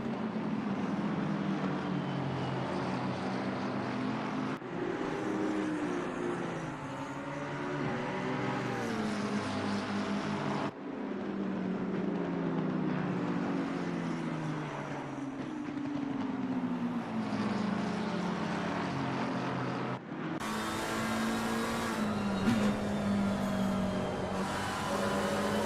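McLaren race cars screaming around Brands Hatch in a racing video game, engines droning continuously with rising and falling pitch through gear changes, loud throughout with several abrupt cuts.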